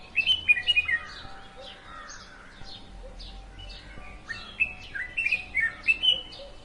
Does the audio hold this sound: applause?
no